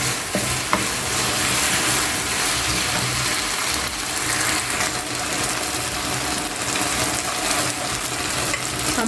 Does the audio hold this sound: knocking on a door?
no